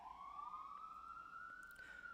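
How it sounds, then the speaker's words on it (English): An emergency vehicle siren passes outside as a single faint, distant wail whose pitch rises slowly and steadily, with no one talking. "Here comes the sirens."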